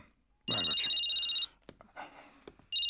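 A telephone rings indoors at night in a Turkish TV film, two loud electronic trill bursts split by a pause, each ring holding steady and clear, with brief voices murmuring between the rings.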